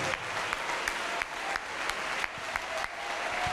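A church congregation applauds together, a steady dense wash of clapping with a few sharper accents, continuing without a break for several seconds.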